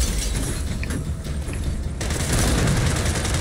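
Sustained gunfire from a shooter video game, Gears of War 4, forms a dense, continuous barrage of shots and booms that swells louder in the second half with no talking.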